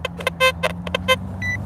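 Crackly, warbling tones from a 40-year-old Macro Simplex Plus metal detector passing over foil, a series of short, stuttering harmonic bursts over a steady low hum, ending with a thin, higher tone.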